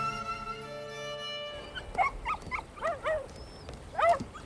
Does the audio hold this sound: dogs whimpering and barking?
yes